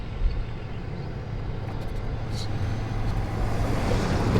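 Road traffic rolls past near a campground marina at Prizer Point, a steady low rumble of vehicles building slightly louder toward the end, heard without voices.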